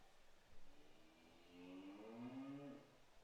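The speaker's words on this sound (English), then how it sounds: "I didn't know there were some cows out that way, Wayne." Cows low in the distance near a baseball field during a Regina Red Sox at Medicine Hat Mavericks game, a faint drawn-out moo rising and fading over quiet ambient noise.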